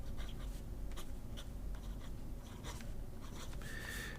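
Fountain pen with a broad nib scratching across paper, a steady soft scraping stroke after stroke, close and quiet over faint background hiss, no voices.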